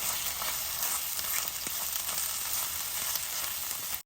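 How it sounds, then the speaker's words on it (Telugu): Onion and ginger-garlic paste fry in oil for mutton curry, giving a dense, even hiss of sizzling that holds steady throughout with one faint tap of a utensil. "ఉల్లిపాయ అల్లం వెల్లుల్లిపాయ పేస్ట్ ఇలా వేగుతుందండి చూడండి"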